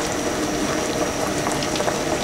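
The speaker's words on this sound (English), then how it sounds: "Nk'ubu ngubu urabona ko umuceri uri kubira ahantu hose," Rice boils vigorously in a pot of water, a close, continuous bubbling and popping with a dense, even texture and no voices.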